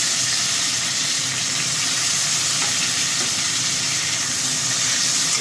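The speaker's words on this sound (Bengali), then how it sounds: "এই আলুগুলো আমি লাল লাল করে ভেজে নিই।" Potato pieces frying in hot oil in a pan, left over from cooking stingray fish, giving a dense continuous sizzle and hiss throughout, close and loud, with faint stirring scrapes and no talk.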